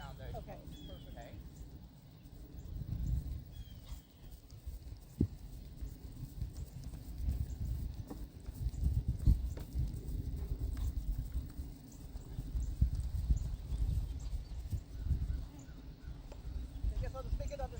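A horse canters over ground poles in a field, its hoofbeats thudding in a soft, uneven rhythm at moderate distance, mixed with light outdoor noise and people talking.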